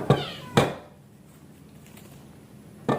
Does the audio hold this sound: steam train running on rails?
no